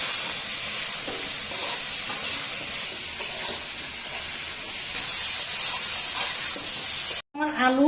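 Potato, chicken and pointed gourd fry in a pan with a steady, close hissing sizzle. Faint stirring clicks come through now and then, and a brief sharp noise cuts in near the end.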